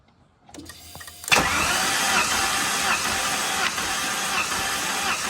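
A Holden VY with an L67 engine cranking on the starter during a cylinder compression test, a quiet click and then a loud, steady, rhythmic whirring crank that continues to the end.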